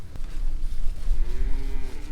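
Cows grazing short grass in a pasture give a deep, drawn-out moo close by, over low outdoor rumble and background noise.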